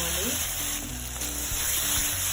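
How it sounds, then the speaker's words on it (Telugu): Chicken pieces being stirred through masala in a frying pan, a steady close sizzle with a few scraping spatula strokes over a short stretch. "చికెన్ అంతా మసాలాలలో కలిసేటట్టుగా బాగా కలుపుకోవాలి."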